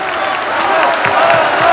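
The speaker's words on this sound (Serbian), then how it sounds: "I najjači aplauz za predsjednika Srbije Tomislava Nikolića" Applause and crowd noise at a campaign rally in Kragujevac for Serbian President Tomislav Nikolić, a steady wash of clapping with some cheering, sustained throughout.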